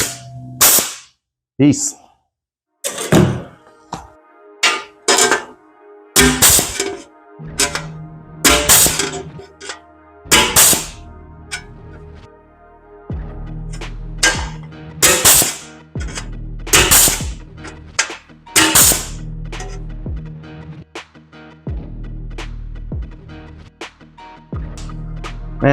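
A 605ST pneumatic flange and punch combo air tool fires in about fifteen sharp, close bursts of hiss and clack, spaced irregularly, with a low compressor hum filling the gaps.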